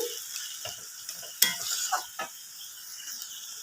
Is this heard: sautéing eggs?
yes